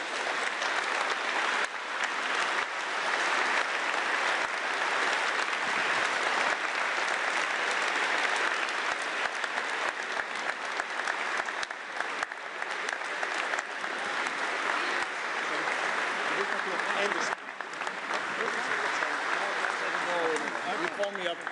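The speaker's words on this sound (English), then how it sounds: "come the Bundeskanzler of Germany, Mr. Merz, with a warm applause, please." A large audience at an EU leaders' summit in Antwerp claps steadily in sustained, dense applause that keeps going at an even level for a long stretch.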